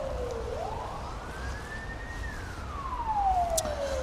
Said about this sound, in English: This is ambulance